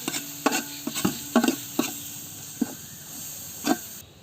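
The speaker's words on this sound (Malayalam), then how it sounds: "ഇനി അതിൻ്റെ പച്ചമണം ഒന്ന് മാറി വരുന്നവരെ വഴറ്റിയെടുക്കാം" Ginger, garlic and green chilli paste is sautéed in coconut oil, giving a low sizzle broken by several sharp scraping stirs of a spoon against the pan, close and clear.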